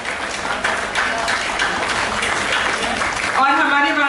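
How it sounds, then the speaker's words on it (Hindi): Audience applause at a Hindi literary stage event, a steady broadband patter of many hands clapping for about three seconds before a speaker's voice comes in over it. "तो एक बार और जोरदार तालियां हो जाएं"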